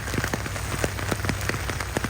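Steady rain pours down outdoors beside a flooding culvert, a dense continuous hiss with scattered drops tapping nearby surfaces, loud and close with no voices.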